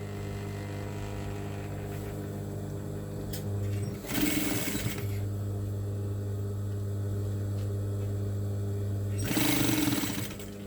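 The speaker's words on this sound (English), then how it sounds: "so that when you sew on the top part, you would have sewn on the lower part or on the down part all together" Sewing machine stitching the layers of a curved table mat, two loud bursts of running stitches about a second long each, separated by a steady low motor hum.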